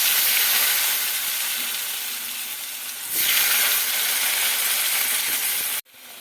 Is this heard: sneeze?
no